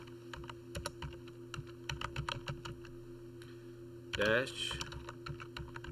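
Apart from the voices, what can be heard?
typing on a computer keyboard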